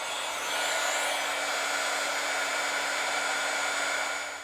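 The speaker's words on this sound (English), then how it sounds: "Okay, so then I can heat set this." A heat tool blowing hot air to heat-set stamped embossing, a steady close whirring hiss that holds unchanged for several seconds.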